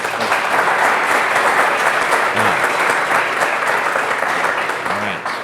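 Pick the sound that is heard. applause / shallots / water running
applause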